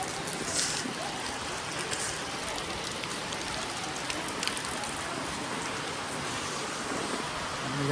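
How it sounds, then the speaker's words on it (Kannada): Steady rain falling on surfaces at the Bhishtadevi temple in Kakkeri, Dharwad, an even, dense hiss of drops that continues for the whole stretch at a moderate level, with no voices over it. "ಅದೇ ಮಳೆ ಬರೋದೈತೆ ರೀ ಗೈಸ್"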